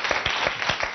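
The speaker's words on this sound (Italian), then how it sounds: "Un applauso anche." A studio audience on a cooking competition show gives a short round of applause, a few distinct, rhythmic claps heard close up in a brief burst.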